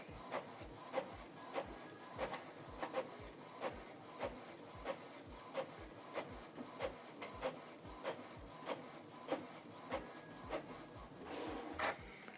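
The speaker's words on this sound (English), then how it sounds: "So we are printing two-sided." A Canon Pixma TS5350i inkjet printer prints a two-sided document, its mechanism ticking in a steady, evenly spaced rhythm of soft clicks over a low whir, fairly quiet and close.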